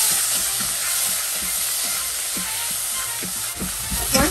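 Finely chopped onions sizzle in a pan of hot oil with popping mustard seeds and curry leaves, a steady close, loud frying hiss with soft stirring knocks throughout.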